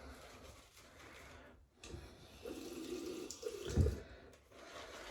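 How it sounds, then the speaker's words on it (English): Water trickles and splashes from a running tap onto a boar shaving brush in a lathering bowl of scented RazoRock XXX shaving soap, a soft hiss swelling into a brief louder gush before tapering off, close and quiet. "Just keep adding water to this."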